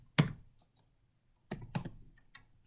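A few quick computer keyboard keystrokes, close and crisp: one sharp tap, a pause, then a short cluster of clicks in a quiet room.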